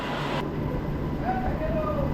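Jhajha-bound MEMU special local train pulling out of a station in West Bengal, a steady low rumble and hum with a faint rising whine, recorded close by amid background voices.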